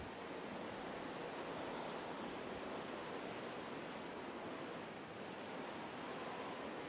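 Water rising in a sanctuary in the video game The Legend of Zelda: The Wind Waker HD, a steady broad rushing wash like surf or a geyser that holds an even level throughout, with no voices.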